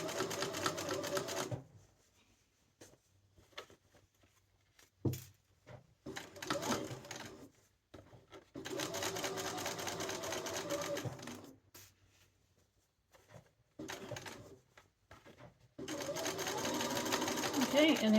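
A sewing machine stitches slowly around the corner of a duster coat collar in bursts of steady whirring, stopping and starting between runs, with a person talking during the pauses.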